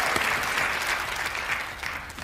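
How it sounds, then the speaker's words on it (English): A studio audience breaks into steady applause on a talk show, a dense wash of clapping that carries on without pause, heard alone with no voices over it. "The other story didn't get applause, but this one did"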